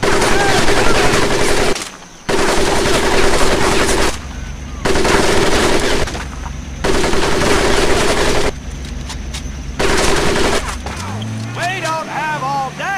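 Machine gun fire in the World War II shooter Medal of Honor: Pacific Assault, loud sustained bursts with short pauses between them and a voice shouting over the gunfire.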